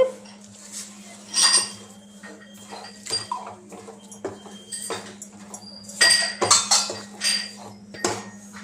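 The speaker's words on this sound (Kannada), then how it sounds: "ಅವರೆಕಾಳು ಬೇಯಿಸಿದ ನೀರಿದೆಯಲ್ಲ ಅದನ್ನೇ ಹಾಕ್ಕೊಂಡು ನಾನು ಕಲಿಸ್ಕೊತೀನಿ" Utensil clinks and scrapes against a bowl as roti dough is mixed with hot water left from cooking avarekalu (field beans); close, intermittent clatter in uneven bursts with quiet gaps between.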